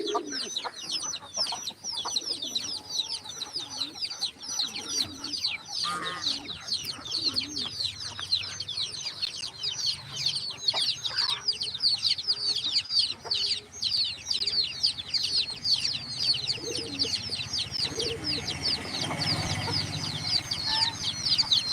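Chickens cluck and chatter continuously at a coop alongside pigeons cooing, a busy layered flock sound at close to middle distance, with faint voices now and then in the background.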